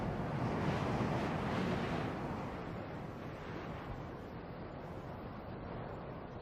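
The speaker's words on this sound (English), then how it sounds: "The spell of silence is broken by air that sweeps down from the Andes." Strong wind sweeping down from the Andes across the open Atacama desert, a steady broadband roar that is loudest at first, then eases slightly and holds as a continuous rushing gust with no voices.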